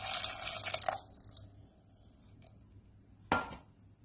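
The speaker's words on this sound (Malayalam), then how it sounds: "പുളിയെടുത്ത് പിഴിഞ്ഞ് അതിൻ്റെ വെള്ളം കൂടെ ഒഴിച്ചു കൊടുക്കുന്നുണ്ട്" A gooseberry-sized lump of tamarind is squeezed and its water poured into a bowl for a coconut fish curry, giving a brief wet splashing and trickle, then quiet and one sharp drip or tap near the end.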